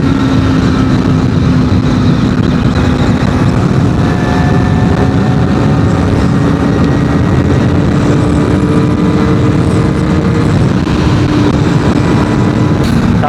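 A Modenas ZX-4R SE motorcycle engine drones loud and steady on a test ride, its pitch creeping slowly upward against constant rushing wind.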